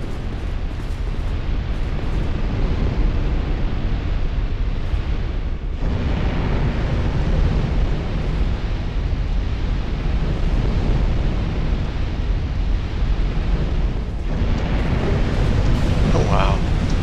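Fire roaring around the player character in Dark Souls II, a loud, continuous rushing blaze that fills the whole stretch with only brief dips.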